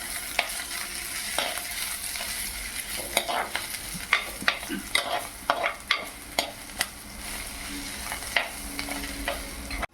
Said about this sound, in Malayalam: ഏഴെട്ട് വെളുത്തുള്ളി കട്ട് ചെയ്തതും ചെറിയ കഷ്ണം ഇഞ്ചി കട്ട് ചെയ്തതും കൂടി ചേർത്ത് വഴറ്റിയെടുക്കാം